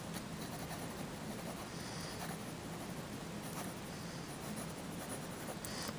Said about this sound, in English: There's a bit of a scratch to the pen, especially on the diagonal strokes